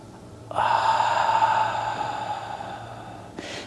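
A sustained, audible exhale through the mouth while easing into a half-splits yoga pose, close and fairly loud, fading gently over about three seconds, followed by a short second breath.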